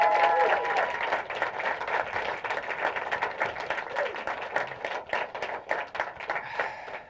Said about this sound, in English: would y'all clap for Foresters and Darwin Herm?